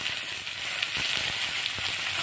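Onions hit hot oil with cumin in a pan, giving a steady, close hiss with faint crackles throughout.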